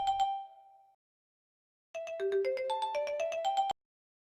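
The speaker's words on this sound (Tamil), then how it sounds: "ஃபோன் பண்ணுறான், போய் பேசிட்டு வந்துடு" A phone ringtone plays a short electronic chime, pauses in silence, then returns as a quick melodic run of bright, clear tones, close and alone with no talking.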